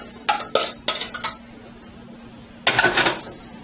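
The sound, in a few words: pastry cream dumped and scraped into a shallow pan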